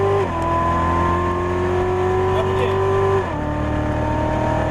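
A 2015 Corvette C7 Z06 accelerates on the Las Vegas Motor Speedway track, its loud steady engine drone holding one pitch and then dropping briefly as it shifts gear, with no voices.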